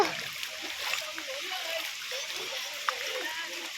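Floodwater from the Bharja river in spate splashes as someone plays in it, giving a steady close sloshing hiss with a brief sharper splash, and a voice faintly under it.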